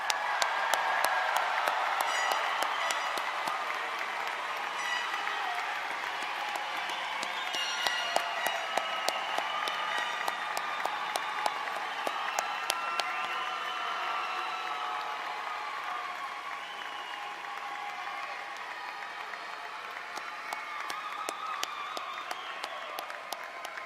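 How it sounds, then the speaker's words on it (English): A graduation audience at a university December ceremony gives long, steady applause, with many hands clapping together and a faint crowd murmur underneath, slowly easing in loudness over about twenty seconds. "Let's give our graduates another big round of applause."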